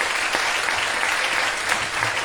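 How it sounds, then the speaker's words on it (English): Audience at a political candidates' forum claps for the candidates, a brief steady burst of many hands applauding without speech. "One more round of applause again for the candidates."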